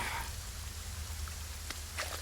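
Steady rain pours in an action film scene, a dense, even hiss of water that stays constant throughout with a few faint drips on top.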